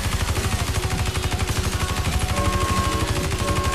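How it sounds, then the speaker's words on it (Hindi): Rapid automatic gunfire from the Watch Dogs 2 video game rattles in a fast, even stream of loud shots that keeps going without a break. "हर तरफ से गोलियां मारेंगे यार"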